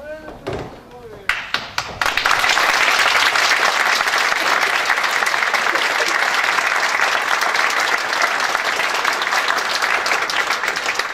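Audience applause for award winners at a ceremony, after a few scattered thumps and a brief voice comes a loud sustained burst of clapping from a crowd that continues steadily to the end.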